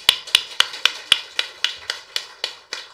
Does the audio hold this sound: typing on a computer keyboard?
no